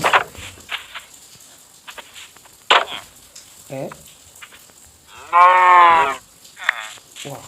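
A cow in the Minecraft video game gives a loud, drawn-out moo near the end, standing out over quieter in-game clicks, footsteps and scattered short noises.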